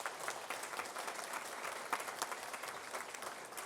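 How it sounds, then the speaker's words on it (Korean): Church congregation applause during a Korean worship service, a soft, steady patter of many hands clapping at a distance, continuing evenly throughout without speech. "여러분 박수 한번 해주시기 바랍니다"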